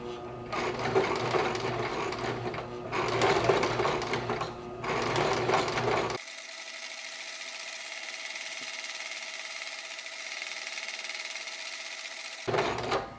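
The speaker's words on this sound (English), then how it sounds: "So begin by slowly stitching around, tracing that circle shape." A sewing machine stitches slowly around a spiral quilt circle, its motor whirring in two close bursts of rapid rhythmic needle chatter before falling to a quiet hum, then starting up briefly again at the end.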